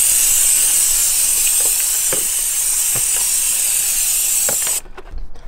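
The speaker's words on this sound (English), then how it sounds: "I highly recommend a pump sprayer." A pump sprayer hisses cleaner onto a stained front driver-side carpet of an Acura TL, a loud steady spray with a few faint clicks and taps underneath, stopping near the end.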